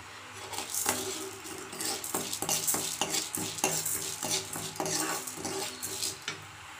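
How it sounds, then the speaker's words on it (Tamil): Chana dal roasts in hot oil with fried asafoetida while a spoon stirs briskly, giving a dense crackling sizzle and rapid metallic scraping and clinking against the pan throughout. "அடுத்து இதிலே நம்ம வந்து கடலைப்பருப்பை போட்டு வறுத்துக்கலாம்."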